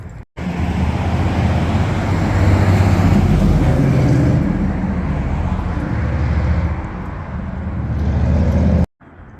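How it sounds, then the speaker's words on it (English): Road traffic rolls through a small town, a loud, continuous wash of passing engines and tire noise that swells and eases without pause, heard close with no talking. "There sure is a lot of traffic going up and down through town here."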